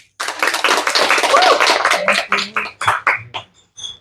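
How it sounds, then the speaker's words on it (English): An audience at a live film-pitching event applauds a presenter: loud, dense clapping from many hands that thins out toward the end into a few scattered, separate claps. "Applause, everyone."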